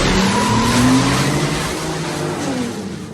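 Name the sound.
car speeding away with tires squealing, movie scene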